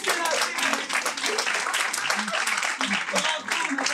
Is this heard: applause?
yes